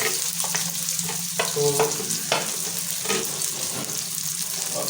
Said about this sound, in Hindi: जी घी हमारा गरम हो चुका है, इसमें डाल दिया प्याज